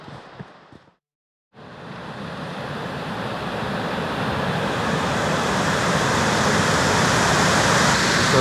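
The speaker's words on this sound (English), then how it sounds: "So that's the other waterfall." A waterfall in an Olympic National Park forest roars as a steady broadband rush, loud and close, swelling gradually after a brief silent gap near the start.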